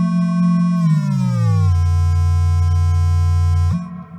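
A buzzy synth tone run through an Empress ZOIA with 100% wet reverb bends smoothly downward in pitch, holds low and washed in heavy reverb, then jumps back up and cuts off.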